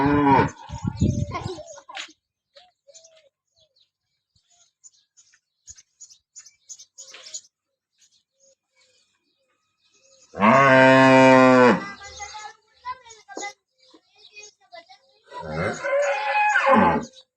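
Cows at a livestock market give a few long, loud moos spread across the stretch, with faint scattered voices and small noises filling the quieter gaps between calls.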